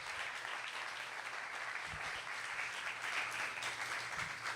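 An audience applauds the presenters at a university digital arts and design graduate showcase, giving steady, moderately distant clapping from a crowd that runs the whole time without speech.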